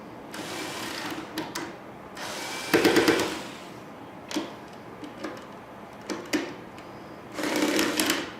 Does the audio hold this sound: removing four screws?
yes